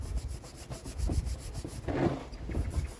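Rag rubbing over a Lister Lucas magneto's plastic and aluminium body, giving a close, rhythmic back-and-forth scrubbing in both directions with short swells of friction.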